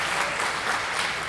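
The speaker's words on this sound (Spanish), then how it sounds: "Un fuerte aplauso a Felipe." A conference audience at Connecturday 2018, during a talk on the history of Costa Rican video games, applauds a guest: dense, steady clapping from many hands that fills the whole moment, with no voice over it.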